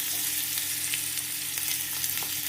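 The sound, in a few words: frying green chili, onion, tomato and curry leaves in oil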